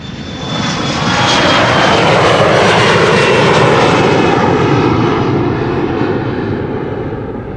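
An airliner departing runway 36 left at Amsterdam Schiphol Airport, its engines building to a loud, steady roar as it passes close by, then slowly fading, with no talk over it.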